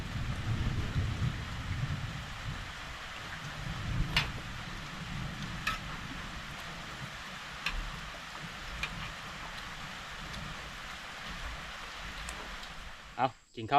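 Steady rain falls with scattered drips tapping nearby, and faint voices murmur in the background.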